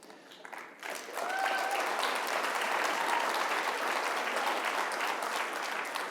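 Audience applause at a governor's summit on disabilities, starting after a brief moment and swelling into steady, loud, sustained clapping from a large crowd for several seconds.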